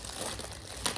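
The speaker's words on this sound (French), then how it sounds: "Il est bien difficile à ouvrir parce que c'est comme en genre de petit métal, fait que ça se déchire vraiment pas." A crinkly metallic-feeling wrapper package rustles and crumples close up in a quick handling burst, with a sharper crackle near the end.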